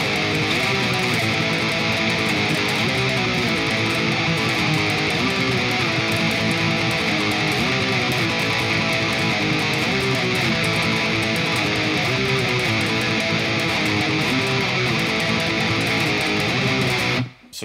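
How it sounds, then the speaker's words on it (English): Distorted electric guitar tremolo picking a fast black metal riff on the low strings, a dense, continuous buzzing wall of rapid notes at steady volume that cuts off abruptly at the end. "So, tremolo picking and up to speed sounds like this."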